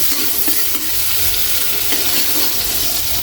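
Onion sautés with garlic in a frying pan, giving a loud, dense, continuous sizzle with faint stirring scrapes throughout.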